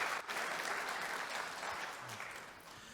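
Company workers in a hall give a faint, distant round of applause, a steady wash of clapping that holds evenly for a few seconds.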